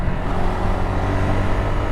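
A Ducati Multistrada V2 adventure motorcycle engine running steadily while riding, a continuous low rumble with wind-like broadband noise, loud and close throughout.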